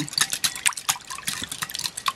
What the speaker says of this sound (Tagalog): Then, lagyan po natin ng milk.